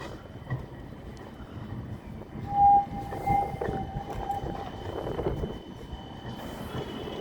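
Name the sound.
tram at Edgbaston Village stop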